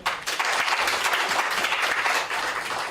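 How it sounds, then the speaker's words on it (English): An audience claps for a poet at a launch event on countering violent extremism: dense, steady applause from a sizeable crowd, loud and sustained throughout with no pause and no voices rising above it. "Let's clap for him one more time."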